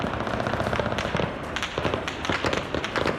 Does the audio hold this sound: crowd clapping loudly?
no